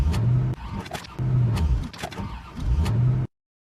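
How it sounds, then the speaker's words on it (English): A car engine stalling from overheating: a low, rough mid-pitched engine note comes in three sputtering bursts with brief dips between them, close and fairly loud, then cuts out abruptly into silence. "Looks like we have a problem with the car. The engine is overheated."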